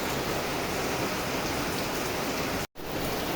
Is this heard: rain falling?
yes